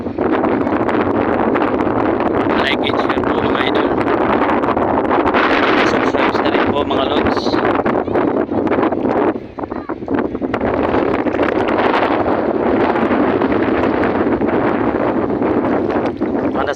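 Strong wind roars steadily across the microphone in open air by the sea, loud and continuous, with a brief dip midway and faint voices beneath.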